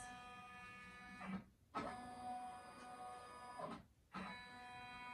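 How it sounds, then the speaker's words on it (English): A computerized embroidery machine traces the outline of a design on a customer's blanket, its motors whirring steadily with two brief pauses as the hoop shifts direction, close and even throughout. "I'm going to do a trace because I want to make sure that the needle is not going to hit any of the sides."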